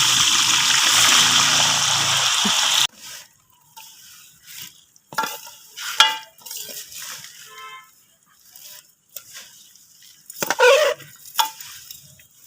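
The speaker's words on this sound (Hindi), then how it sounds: "सेवइयों को गोल्डन ब्राउन होने तक भूनेंगे।" Vermicelli roasting in ghee in a pan while a spoon stirs it: a loud hiss in the opening seconds, then scattered scrapes and clinks of the spoon against the pan, with no voices.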